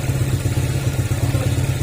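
A Honda Click 150 scooter with a tuned engine idles close by, giving a steady low, throbbing putter that pulses evenly throughout.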